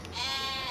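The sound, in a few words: sheep bleating in Farming Simulator 25 video game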